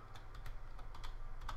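Quick keystrokes on a computer keyboard, about eight or nine light taps in an uneven run, close and clear, no voices.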